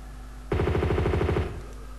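An M16 fires in the Tomb Raider 2 video game: a rapid burst of about a dozen sharp, evenly spaced shots, loud and close, then a short fading tail.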